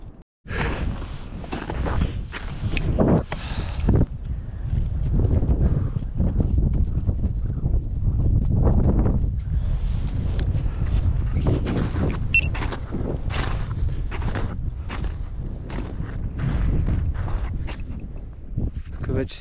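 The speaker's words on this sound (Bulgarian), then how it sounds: "Тук вече си духа яко" Strong wind roars across an icy Rila mountain ridge, buffeting the microphone in heavy continuous gusts, with crunching footsteps on ice and a brief voice early on.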